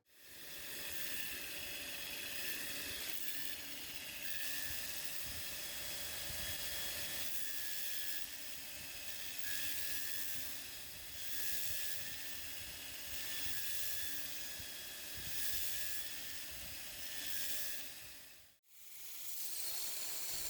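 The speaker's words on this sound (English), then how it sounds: "I'm gonna put it on the surface grinder, clean up all this scale" A surface grinder cleaning forge scale off a hand-forged knife blade made from nuts and copper powder, a loud continuous hissing grind that holds steady for about twenty seconds, cuts out abruptly for a moment and then starts again.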